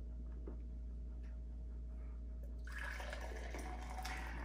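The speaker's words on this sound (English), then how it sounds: "And we'll go ahead and pour ourselves a cup of coffee." Fresh coffee from a Cuisinart 12-cup automatic drip coffee maker streams into a cup, a steady close pour starting midway through after a quiet, faintly ticking kitchen background.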